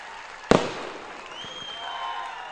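At a 2014 Lok Sabha election campaign rally in Kankavli, a single sharp firecracker bang bursts loudly, followed by a crackling tail and a faint whistling tone as the noise settles.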